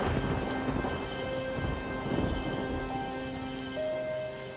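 Thunder rumbles over steady rain on a rainy June night, a continuous wash of rainfall with low rolling thunder swelling and fading throughout, loud and close with no voices.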